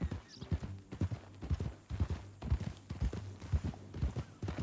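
A horse's hooves clip-clop at a steady walking rhythm in Red Dead Redemption 2, close and clear over a low background, with no speech.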